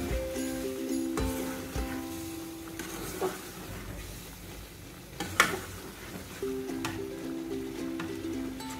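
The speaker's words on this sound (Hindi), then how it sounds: "दही शामिल करने के बाद हम इसको बहुत अच्छा सा तेज आंच पे ही भून लेंगे" Chicken karahi masala with yogurt frying over high heat, a soft steady sizzle with a few sharp spatula knocks and scrapes, fairly quiet and close, with a faint hum in the background.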